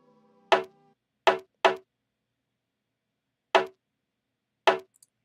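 Dry, unequalized percussion sample from a drum kit struck five times in an uneven pattern, each hit sharp and clicky with a quick decay. A faint low hum sits beneath the first hit.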